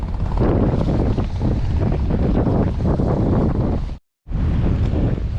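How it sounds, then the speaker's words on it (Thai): Strong wind at a seaside homestay at Samaesan, Chonburi, at night buffets the microphone in a loud, continuous roar, with a brief dropout near the end. "โอ้ลมแบบแรงมากอะ"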